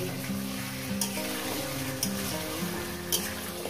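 Chicken pieces fry over high heat in a pan with a dense, continuous sizzle, and a spoon knocks against the pan about three times as they are turned. There is no talk.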